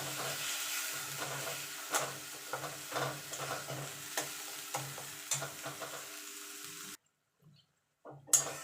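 Tomato and ginger paste sautéing in a pan, with repeated stirring scrapes over a steady sizzle, a brief quiet gap near the end, then a few more stirs.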